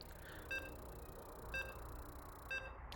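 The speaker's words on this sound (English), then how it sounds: "And you can hear the beeps. We are loading in." Three short, evenly spaced electronic beeps sound about a second apart while StarCraft II loads into a match, faint and alone over a quiet background hum.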